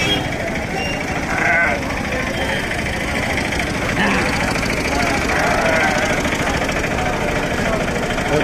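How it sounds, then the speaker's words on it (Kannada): Sheep bleat now and then through the steady crowd noise of a busy livestock market in central Karnataka, with an engine idling nearby and people talking all around. "ಇಲ್ಲಿ ನಾವು ಎಂಟ್ರೆನ್ಸಿಗೆ ಬರೋದೇ ಕುರಿ ಸಂತೆ"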